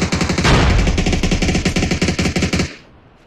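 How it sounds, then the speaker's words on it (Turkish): Loud sustained machine gun fire in the shooter game PUBG, a rapid burst of dozens of rounds aimed at a car, lasting nearly three seconds before cutting off abruptly. "Arabaya sıkıyor çocuk."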